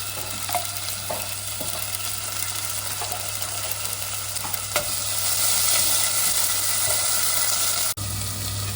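Canned tomatoes hit a hot pan for dal curry, giving a constant crackling sizzle with occasional spatula scrapes, swelling louder midway before a sudden brief cut near the end.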